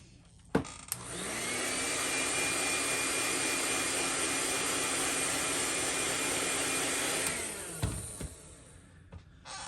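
Heat gun heat-setting paint on a fishing lure, a steady loud blowing roar that switches on, holds for about seven seconds, then cuts off with a clunk, no talking.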